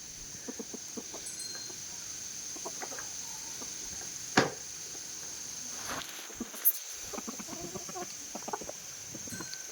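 Moulting hens cluck softly in a Vietnamese chicken yard, a scattering of short, repeated calls over a hissing background, with a few sharper sounds and a brief louder cry among them.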